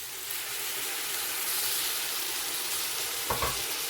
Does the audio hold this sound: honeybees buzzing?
no